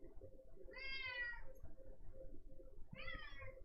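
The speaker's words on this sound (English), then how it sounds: "Damn, you really fucking meowing." A house cat meowing insistently indoors for attention, two drawn-out, wavering meows a couple of seconds apart, close by and fairly quiet over low room noise.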